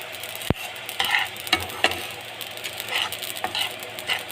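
Poppy seeds frying in a pan while a spatula stirs them, giving a soft continuous sizzle punctuated by sharp scraping strokes and one loud knock against the pan.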